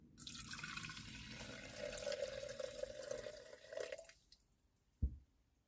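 Hot water pours steadily into a Stanley French press at a high mountain camp, a close gurgling stream that rises in pitch as it fills, then stops, followed by a single sharp knock.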